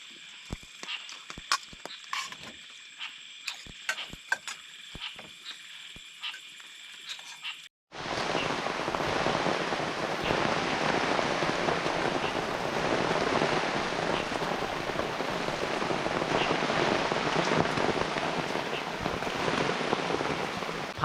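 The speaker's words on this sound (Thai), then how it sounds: "ฝน ก็เริ่มตกหนักขึ้นเรื่อยๆ" Heavy rain falls at a night campsite, first as scattered drops tapping on a surface, then suddenly as a dense, loud, steady roar of downpour that continues to the end.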